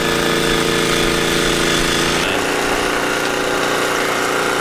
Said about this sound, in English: So noisy. It's hard to hold a conversation. Generator.